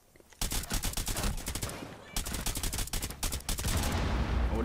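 Rapid automatic gunfire in Tom Clancy's Rainbow Six, loud and close, with dense bursts of shots filling nearly the whole stretch after a brief quiet start and a short pause near the middle.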